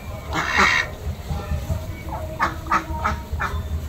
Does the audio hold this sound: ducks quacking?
yes